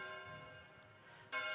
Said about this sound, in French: Peut-être que vous vous rappelez de ces petites cloches.